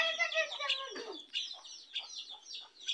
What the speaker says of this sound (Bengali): এই যে হাঁস মুরগি এখানে সকালবেলা খাওয়াচ্ছি আমি